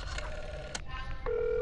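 Telephone keypad tones as a phone number is dialed, a few short beeps followed by a longer steady tone near the end, heard close and clear with a faint background hum.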